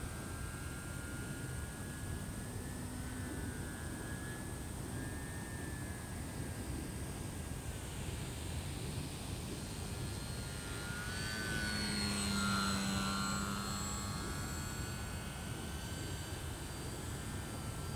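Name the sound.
E-Flite P-51D Mustang RC model airplane flying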